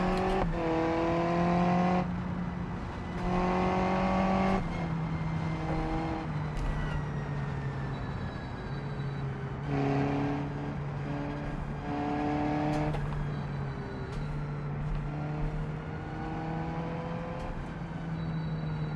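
A Formula 4 race car in the BeamNG driving game revs loudly, climbing through the gears with repeated rises and drops in engine pitch and brief lifts between shifts, close and steady throughout.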